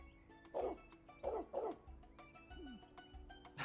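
A dog in the video game Trails Beyond the Horizon gives three quick barks in succession, followed by a brief whimpering yelp, all fairly close over a quiet musical backdrop.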